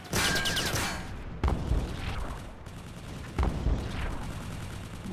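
A U-boat deck gun in Silent Hunter fires in three heavy booming shots about two seconds apart, each followed by a rumbling decay, with no voices.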